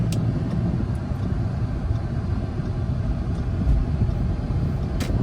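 Interior of an Audi A6 with a suspected failing transmission, driven slowly through easy gear changes. Steady low engine and road rumble continues throughout, with no one talking.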